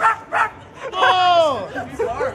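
A woman imitates a dog's bark with her voice, giving short yipping barks followed by a long wavering whimper-like howl, close up, with a bit of nearby chatter.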